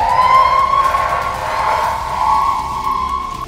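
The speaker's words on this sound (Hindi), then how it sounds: "सायरन की साए साए आवाज खार्किव में दहशत और खौफ पैदा कर रही है।" An air raid siren in Kharkiv wails loudly and steadily with a high, sustained tone that slowly rises and falls, filling the whole stretch with no voices.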